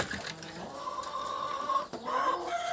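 Chickens, with chicks, cluck and squawk in an agitated back-and-forth as they fight, fairly close, with brief sharper cries and a short pause near the end.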